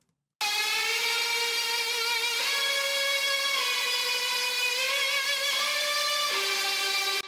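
A bright, buzzy melodic dubstep synth lead, its first layer heard alone, plays loud sustained notes that step between pitches with slight wobbles, starting abruptly after a brief silence and running for about seven seconds.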